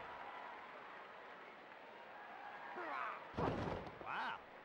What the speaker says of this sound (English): Valkyrie, a basic hip toss.